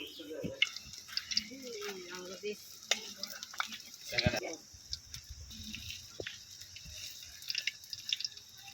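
Drumstick-leaf fritters fry in hot oil with crackling sizzles and drips, interrupted by scraping and clinks as they are flipped, while a person talks over the cooking.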